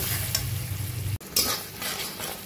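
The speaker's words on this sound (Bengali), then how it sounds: "এবার ভালো করে ডালের সঙ্গে মশলাটা কষিয়ে নেব" Salt, turmeric, chopped tomatoes and cumin powder sauté with mung dal in a pan, giving a continuous close sizzle with scraping stirs and one brief pause before the frying resumes.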